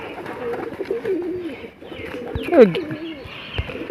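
An old-generation Giribaj pigeon coos close by in a loft, a rolling series of low throaty calls over a busy background of other bird noise.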